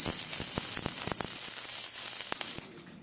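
Chopped onion lightly frying in oil with black cumin seeds and dried chili, a close, steady sizzle with scattered crackles and pops that drops away near the end.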